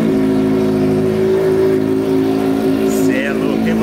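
A motorcycle engine idles and revs loudly and steadily for the whole stretch, with a deep droning hum, while people talk over it.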